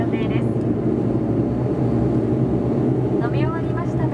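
Steady loud turboprop drone fills the cabin of an ANA Q400 airliner on approach to Oita Airport, a continuous low engine roar with brief faint voices over it.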